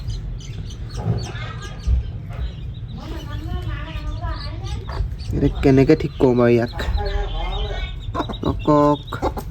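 Chicks peep and cheep in short bursts close by while a person talks over them.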